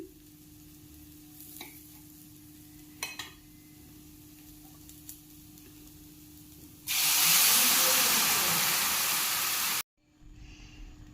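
Water poured into a hot pan of frying potatoes and chana, bursting into a loud, sustained hiss and sizzle for a few seconds after quieter stirring and clinks, then cutting off abruptly.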